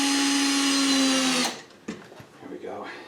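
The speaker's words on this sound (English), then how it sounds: "I'm putting in a screw." A power drill drives a screw, whirring steadily at high speed for about a second and a half, then cuts out, leaving a few clicks and light handling noises.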